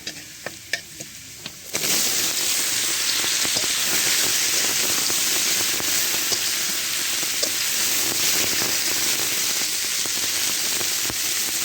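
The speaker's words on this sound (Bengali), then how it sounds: "এবার ঝিঙে দিতে হবে।" Ridge gourd goes into hot oil with fried onions, bursting into a loud, dense sizzle after a few quiet clicks, then crackling steadily with occasional stirring knocks.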